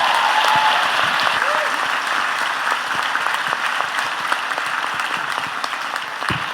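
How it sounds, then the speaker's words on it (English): A podcast's live audience gives sustained, steady applause for the social media manager, dense and even throughout, with voices faintly mixed in. "can we give her a round of applause?"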